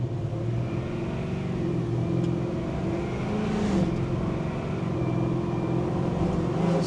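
A 1969 Ford F100 pickup with a swapped 5.0 Coyote V8 and 10R80 automatic accelerates with a steady, loud engine drone heard from inside the cab, pitch rising and easing slightly through the pull.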